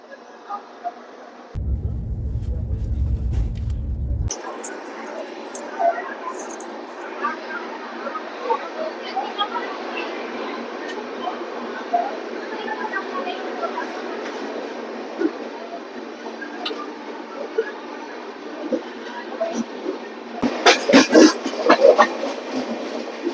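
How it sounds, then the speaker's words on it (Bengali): A train pulls out of Bilaspur Junction in the morning, a continuous rolling rumble with light clatter heard from on board, after a short burst of deep noise at the start and louder rattling near the end. "এই সকালে আমরা এখন বিলাসপুর জাংশন থেকে ট্রেন ছেড়ে দিচ্ছে"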